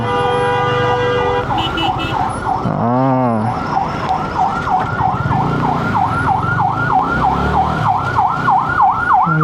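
An ambulance siren wails loudly close by, sweeping up and down in a fast repeating cycle over road traffic noise on the Bhulta road in Bangladesh, near roadworks.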